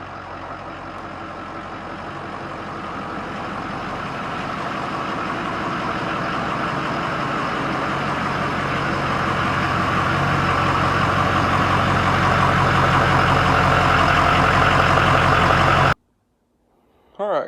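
A Ford F250 pickup with a 6.0 Powerstroke diesel idles as it is driven into a shop, a steady low clattering drone that slowly grows louder before cutting off abruptly near the end.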